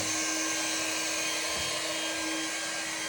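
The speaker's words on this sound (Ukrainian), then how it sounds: "Тепер беремо пилісос, включаємо і зверху вниз" A Grunhelm GVC-WV03 window vacuum cleaner runs steadily and fairly loud, a continuous whirring motor hum with a high-pitched whine that holds unbroken throughout.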